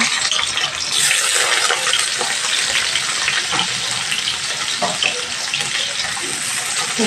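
Chopped onions hit hot oil in a pan with bay leaf and whole spices for a katla fish curry, making a loud, dense, continuous sizzle close by.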